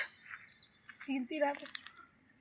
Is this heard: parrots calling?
yes